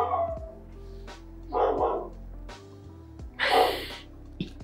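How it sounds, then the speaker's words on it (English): Street dogs bark and yip in a few separate bursts at moderate distance, with a brief whimpering tone at the start and a low hum underneath. "Street dogs."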